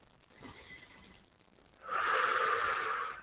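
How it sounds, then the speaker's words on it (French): Slow, deep breathing during a mobility exercise session, with a soft, airy inhale followed by a longer, stronger exhale, close and clear with no talking. "respirez à plein poumon"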